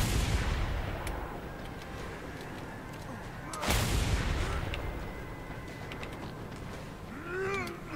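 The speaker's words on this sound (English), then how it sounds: "Fire the damn shotgun." Shotgun blasts go off in the video game Mad Max, two loud booming reports a few seconds apart over a rough, noisy game soundscape, with a brief chirpy squeal near the end.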